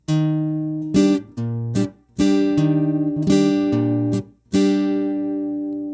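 A guitar plays a slow strumming pattern for a song: single bass notes alternate with ringing downstrokes, each attack sustaining and fading before the next, clear and close with no talk.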